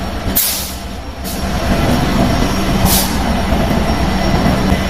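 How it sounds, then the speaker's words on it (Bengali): A long Bangladesh Railway passenger train rolls slowly through a busy station, giving a steady low rumble of wheels and carriages with a few brief hissing bursts like air brakes, loud and close throughout. "মনে হচ্ছে যে ট্রেনটা থেমে যাবে এরকম মনে হচ্ছে কিন্তু না ট্রেন ধীরে ধীরে চল"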